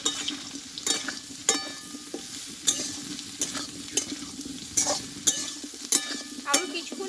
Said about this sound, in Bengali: এবার এই আলুর মধ্যে আমি সোয়াবিনটা দিয়ে কষে নেব